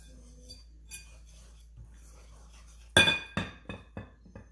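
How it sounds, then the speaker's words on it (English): A metal whisk beats dry ingredients into wet grain-free protein pancake batter in a bowl: near silence at first, then a sudden run of quick, bright clinks against the bowl that taper off. "now I'm going to mix the dry into the wet. Use my whisk to keep it from getting clumpy."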